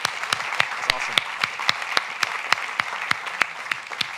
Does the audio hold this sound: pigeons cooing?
no